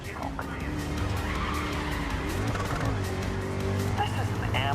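Race car tires skid and squeal over a loud, steady engine roar in GRID Legends racing gameplay, the screech sustained through the whole stretch with shifting pitch.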